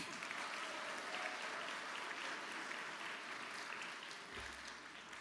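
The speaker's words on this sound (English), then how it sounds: "Can we have another round of applause for Jake Niederer's music?" A school chapel audience at Montgomery School gives a sustained round of applause for a student's music, a broad steady wash of clapping that holds at a fairly even level throughout.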